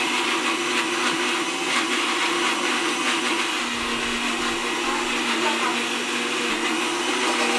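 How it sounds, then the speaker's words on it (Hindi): Kitchen mixer grinder running steadily at high speed indoors, a loud continuous whirring drone throughout, with voices faintly audible beneath it. "अरे यार मम्मी कब तक बजाओगे मिक्सर?"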